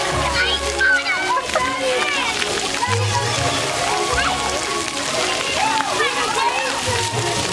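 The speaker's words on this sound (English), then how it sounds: "You just sprayed my water, Mopa!" Water sprays and splashes continuously at a water playground, loud and close, with children and adults talking and shouting over the steady wash of water.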